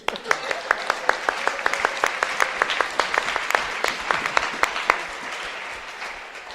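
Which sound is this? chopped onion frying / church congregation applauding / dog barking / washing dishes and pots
church congregation applauding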